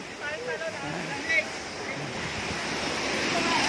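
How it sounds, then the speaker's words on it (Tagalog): A powerful waterfall roars as a dense, steady rush of falling water, loud and close, with a person speaking briefly over it at the start. "ang lakas po ng talon na po na yan"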